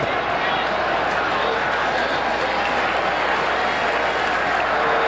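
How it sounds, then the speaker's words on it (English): Crowd at a 1979 New Zealand All Blacks versus Argentina rugby test applauding steadily, a dense wash of clapping and murmur from the stands, while a commentator talks over it. "People are not just clapping their hands to keep them warm"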